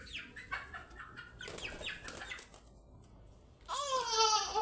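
Chickens clucking close by in a home setting, short repeated clucks and squawks that grow louder and busier toward the end, with no talk over them.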